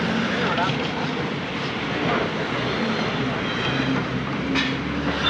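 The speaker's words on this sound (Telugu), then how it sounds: "ఆ ట్రైన్కి ఇక్కడ స్టాప్ లేనట్టుంది వాదుకుంటూ పోతున్నాడు వాడైతే" A loud, steady rumble and roar of a non-stopping train rushing past nearby on the Tirupati–Kodur line in Rayalaseema, continuous throughout with rattling wheel noise.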